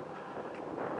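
Outdoor wind buffets the microphone in a steady, close, rumbling whoosh for about a second.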